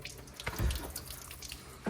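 Water trickles and splashes inside the door of a BMW X1 E84 and leaks into the cabin, a quiet, steady running like a tap with a few soft gurgles and splashes, heard alone.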